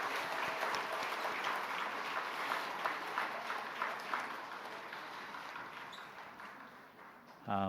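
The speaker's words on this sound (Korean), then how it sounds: "우리 중동이교구 한번 크게 힘차게 박수 한번 쳐주시기 바랍니다." A church congregation at a Korean dedication service gives a sustained round of applause, dense and even at first and tapering off near the end.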